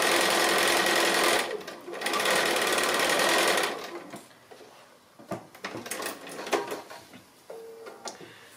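Sewing machine running a quarter-inch seam along fabric for a triangle pin cushion, a loud steady motor whir in two long bursts with a short pause between, then quieter handling clicks and rustles once stitching stops.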